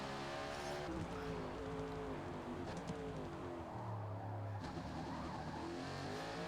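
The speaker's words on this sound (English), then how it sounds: "It sounds just like a real race car." NASCAR race car engine in a racing video game, a continuous droning engine note with pitch shifts and a brief sustained tone near the middle, fairly quiet and without speech.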